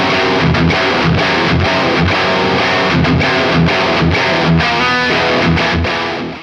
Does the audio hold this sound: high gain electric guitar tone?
yes